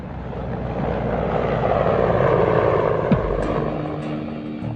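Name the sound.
Mi-24 Hind twin-turbine helicopter flying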